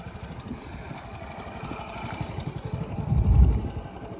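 Motorcycle engine idling and putting along in a farm field, a low thumping clatter that grows louder and closer near the end.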